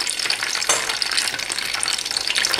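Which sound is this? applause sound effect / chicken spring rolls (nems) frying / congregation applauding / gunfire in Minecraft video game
chicken spring rolls (nems) frying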